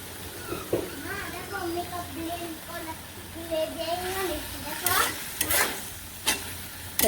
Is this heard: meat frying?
yes